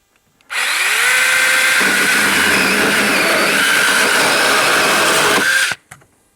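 A SainLogic mini chainsaw runs through a small, long piece of firewood, a loud continuous buzzing whine that bogs slightly as the chain bites in, then cuts off abruptly.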